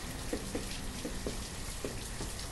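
Steady rainfall in the city-building game Banished, a continuous hiss like shower spray with faint scattered drips, close and even throughout.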